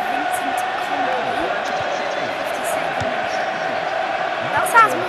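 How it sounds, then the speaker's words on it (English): Stadium crowd of Man City fans in the FIFA 14 football video game, a steady loud roar under commentary with a brief louder swell near the end. "That sounds more like it from the Man City crowd."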